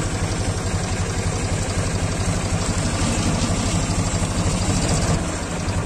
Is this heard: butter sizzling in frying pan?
no